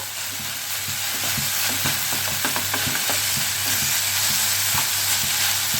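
Vegetable filling for spring rolls stir-fried in a pan, with a constant close sizzle and frequent light scraping knocks of a spatula stirring throughout, no talk.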